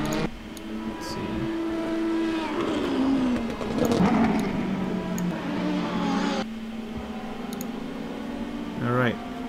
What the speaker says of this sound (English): as you can hear from the exhaust on and off the throttle